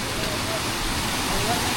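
Water pours down from above at Gupt Bhimashankar in the forest, a steady, dense, rushing roar close by with no breaks.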